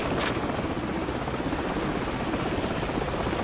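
A helicopter's steady rotor thrum and engine drone in Call of Duty 4: Modern Warfare fill the air continuously, loud and close, with a brief sharp burst near the start.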